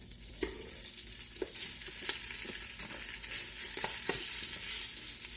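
Patty and cut link sausage sizzle and fry in a pan, a steady crackling hiss punctuated by a few sharper pops and stirring clicks, close and alone without talk.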